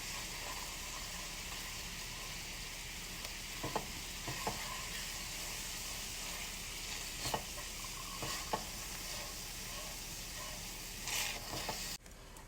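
A vegetable massaman curry sizzles in a pan while a spoon stirs and presses it, giving a constant soft frying hiss with scattered clicks and scrapes.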